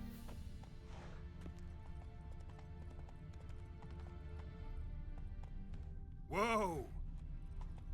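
Roach the horse in The Witcher 3 video game with steady rhythmic clip-clop of hooves under music, a whinny rising near the end, and a short spoken exclamation.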